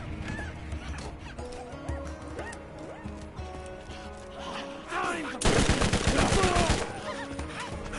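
Bursts of SMG fire from the video game Borderlands rattle amid busy game sounds, ending in a loud, dense stretch of rapid shots near the end.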